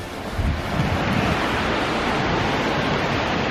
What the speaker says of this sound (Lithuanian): Geras kriokliukas, ką?